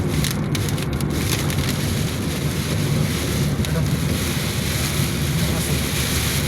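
Strong wind roars steadily against the microphone, a loud continuous rumble with gusty buffeting throughout, with rain.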